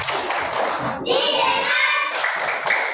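A fifth-grade primary school class does a rhythmic focus clap together, with bursts of hand claps and children's voices chanting in unison in the middle of the sequence.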